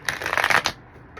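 Tarot cards are shuffled in one brief riffling burst of crisp, close flutters lasting under a second, then quiet.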